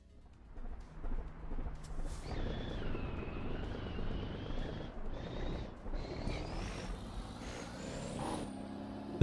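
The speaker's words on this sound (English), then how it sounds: "The truck is always kind of loud when we're this close to it." Loud truck engine from American Truck Simulator, heard up close, a steady heavy rumble with rising whines as the revs climb and a hiss near the end, running continuously throughout.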